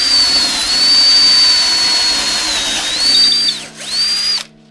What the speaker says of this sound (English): And then I can switch it out and drill the rest of the way.